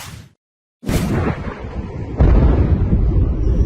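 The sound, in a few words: explosions from US strikes in Iran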